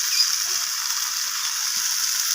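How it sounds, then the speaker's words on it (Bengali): Green peas with green chillies frying in a pan while being stirred make a continuous bright, fizzing sizzle at steady volume, with faint scrapes underneath. "তো মটরশুঁটিগুলো দিয়ে আমি আবারও কষিয়ে নিচ্ছি।"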